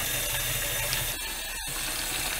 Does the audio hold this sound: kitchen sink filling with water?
yes